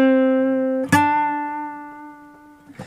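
Guitar note with vibrato, sustained and fading, struck again once near the start of the second second, ringing alone and close with a faint tap at the end.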